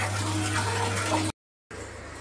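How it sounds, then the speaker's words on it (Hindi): Water splashes and pours as a child bathes from a bucket at home, a steady, close, broadband wash that cuts out for a brief silence before resuming. "मैंने कहा बाल्टी में पानी भरते हैं, नहाते हैं, ये अपने आप ही नहा रही है"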